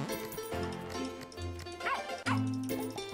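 A dog barking and yipping in the video game Plantera, heard as a few short yips over game music, fairly faint.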